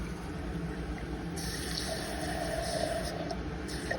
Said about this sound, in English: Now we're going to add water so that we get 1 full cup.